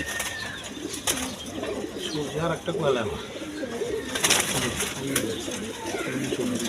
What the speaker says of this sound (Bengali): সব হাই ফ্লাইং গিরিবাস কবুতর এগুলো উড়ায় বাড়ির মধ্যে প্রচুর হয়